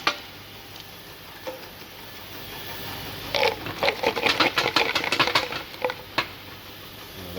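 A King-Swiftpack tablet counting machine runs with a low background hum, then bursts into a quick flurry of rattling, clattering ticks for a few seconds before settling back to quieter running.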